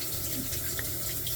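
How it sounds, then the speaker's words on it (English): A bathroom tap runs in a steady, hissing stream of water that stays constant throughout, with no talk. "Sorry about the water running in the background if you hear it."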